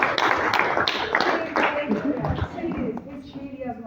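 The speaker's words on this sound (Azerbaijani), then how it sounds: "Bir də alqışlayın" Hands clap in applause at a children's gathering, a burst of quick sharp claps that thins out over a few seconds while voices talk over it.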